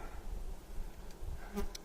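A large, healthy honeybee colony hums in a low, continuous drone during varroa mite testing, with a couple of brief higher buzzes near the end.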